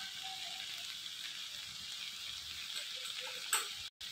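Tomatoes frying in a pan give a faint, even sizzle with soft crackle and a brief clink near the end.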